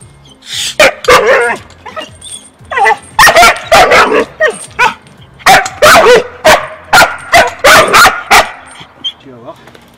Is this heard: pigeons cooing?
no